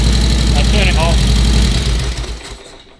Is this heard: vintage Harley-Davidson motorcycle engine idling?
yes